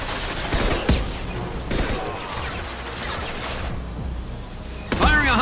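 A high-impact sniper rifle shot in Mass Effect 2 lands as a sharp loud crack, with a heavier blast near the end amid ongoing combat noise of gunfire and impacts.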